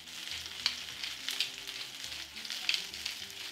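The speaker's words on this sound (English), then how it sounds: "Once the oil is very hot, add the mushrooms." Mushrooms sautéing in very hot vegetable oil for a beef stew, producing a soft, steady sizzle with a few light crackles and pops, fairly quiet and with no voices.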